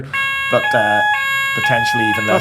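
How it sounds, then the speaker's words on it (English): A fire alarm sounds in a steady series of loud, piercing electronic tones under a man's ongoing speech. "That's the fire alarm."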